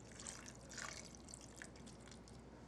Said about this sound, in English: I'm going to add a little water to this too